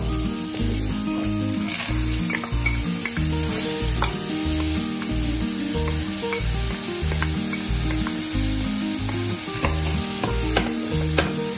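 Julienned vegetables hit a sizzling bolognese sauce with a loud, close, constant sizzle and crackle, overlaid by stirring and scraping in the pan, without any speech.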